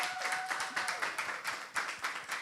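A small audience clapping in quick, even rhythm, the claps fairly close and moderately loud, continuing steadily throughout.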